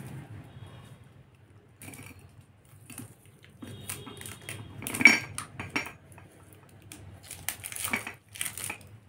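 Someone opens a tape-sealed package holding a jar, giving crinkling, tearing and handling noises with sharp clinks and rattles, close by and irregular, with quiet gaps between bursts.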